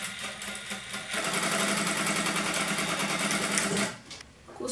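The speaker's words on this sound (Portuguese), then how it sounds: "Vem aqui e costura um pé." A sewing machine stitches fabric close up at a pyjama hem, whirring in a fast steady run for a few seconds before slowing and stopping, with softer mechanical noise around it.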